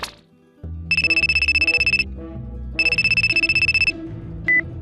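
Outgoing telephone call ringing: two long bursts of rapid electronic trilling tone, each about a second, separated by a pause, clear and close with no talk.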